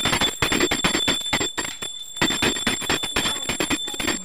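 A hand bell rings continuously through a Ganesh aarti at a household Ganpati festival in Konkan, a steady bright metallic clanging with a high sustained ring, loud and close, briefly dropping away in the middle before resuming.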